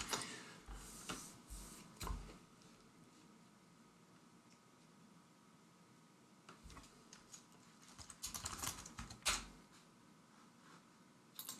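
Someone types on a computer keyboard, producing quiet bursts of rapid clicking keystrokes separated by pauses, close and alone with no speech.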